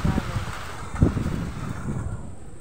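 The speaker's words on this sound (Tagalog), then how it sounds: "Lakas ang hangin guys." Strong typhoon wind buffets the microphone in low rumbling gusts, with a sharper blast about a second in, continuous and close.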